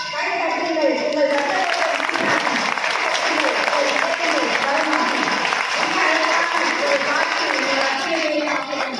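Audience applause at a Tamil book release event held at a school hall, a dense, sustained burst of clapping filling the room with a murmuring crowd underneath.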